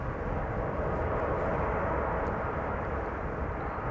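A brand-new airliner, registration PH-YHV, arrives at Amsterdam Schiphol Airport on a sunny evening, producing a steady broadband jet engine roar that stays loud and even throughout, with no voices.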